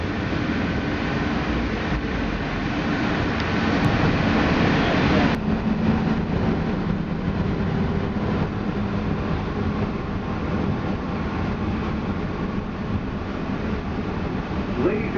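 A Magic Kingdom monorail train rumbles and hums steadily nearby, a continuous mechanical drone that shifts slightly partway through, with no talking.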